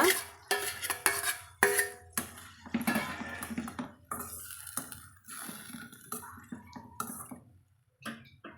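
Boiled broad beans tipped into a pan and stirred, with a run of clattering spoon-on-metal scrapes and clinks, some sharp and close, alone without talk.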